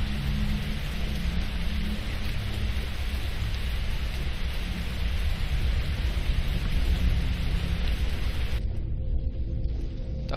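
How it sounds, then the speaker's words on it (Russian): Rain falls in the video game Stalker Online as a dense, steady hiss of drops on surfaces with a low rumble underneath, cutting off abruptly near the end. "Дождь пошел."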